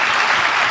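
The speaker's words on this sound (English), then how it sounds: "You just got a round of applause because you're so amazing." Audience applause fills the moment, dense and continuous, a loud wash of many hands clapping together.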